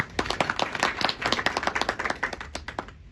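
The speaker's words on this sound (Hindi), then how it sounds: "एक बार महाराष्ट्र सरकार के लिए भी तालियां हो जाए" An audience at a public talk on religion, culture and animal welfare gives a short burst of applause. Dense, crisp hand claps patter quickly, sound fairly quiet and distant, then fade out at the end.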